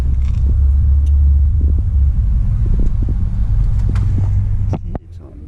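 A truck with a new drive shaft rumbles steadily while driving, a deep low drone close by that eases off near the end, with scattered faint knocks and no clear talk.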